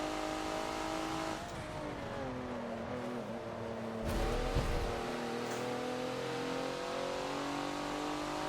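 Race car in the Forza video game at the Hockenheimring, its engine droning steadily and climbing in pitch as it accelerates, with a brief rougher burst of engine noise midway, loud and continuous throughout.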